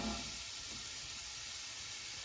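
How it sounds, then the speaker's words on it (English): Onions sizzle in about a quarter cup of olive oil in a pan, a steady soft hiss running evenly throughout with no talking. "And we're gonna get our onions going."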